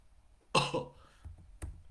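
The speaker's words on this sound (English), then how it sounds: "If you had that 420 cough, 420 cough." A single forced, throaty cough up close, followed a moment later by a shorter second cough; quiet between them.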